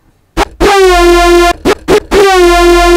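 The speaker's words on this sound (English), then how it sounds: "is just kind of a detuned saw wave" A bright, buzzy synth lead plays sustained notes, separated by a few short stabs, with a thick, slightly wavering detuned tone and no voices.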